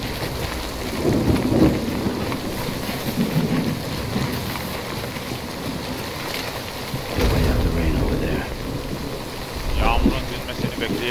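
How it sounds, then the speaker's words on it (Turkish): Rain and thunder in the video game Death Stranding, a steady loud downpour with deep rolling thunder rumbles swelling several times, alone without talk. "Yağmurun dinmesini bekleyeceğiz."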